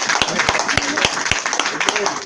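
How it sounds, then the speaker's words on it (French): A church congregation claps for Jesus in a steady, brisk rhythm of sharp, evenly spaced claps, with murmuring voices and talk mixed beneath the clapping. "Vous avez envie d'applaudir pour Jésus, n'est-ce pas?"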